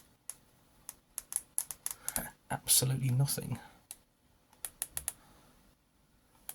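Keys click on a computer keyboard hooked up to an old UK TV box, a series of sharp close taps with a brief burst of faster clatter in the middle, while someone speaks quietly.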